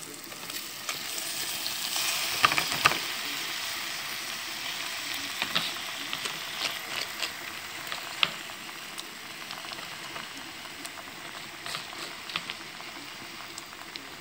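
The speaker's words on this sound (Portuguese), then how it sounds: "O macarrão tem que estar al dente para poder pegar. É, acabar de cozinhar aqui no molho." Pasta finishing in its sauce in a pan gives a soft, steady simmering sizzle with scattered small pops and a few faint clinks.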